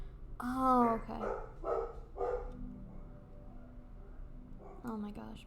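Several dogs bark in short bursts, loud and close at the start and again near the end, with quieter pauses between barks.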